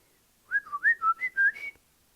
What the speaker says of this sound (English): let's try out a whistle